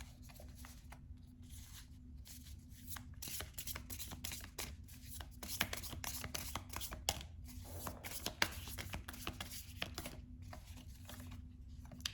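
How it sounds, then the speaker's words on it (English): Tarot cards shuffled by hand during a reading, a faint, close run of soft riffling and rubbing clicks repeating irregularly over a quiet background. "I'm not shuffling it correctly."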